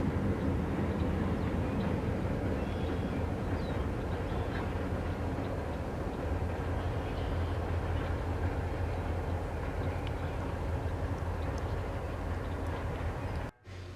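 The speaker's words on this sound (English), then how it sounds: "we see an interesting pull-down lash-up shoving back into the yard" A lash-up of locomotives, BLE 902, a rebuilt tunnel motor, paired with GT GP9R 4623, shoves back into a rail yard on Chicago's East Side, producing a continuous low diesel rumble at moderate distance with no voices.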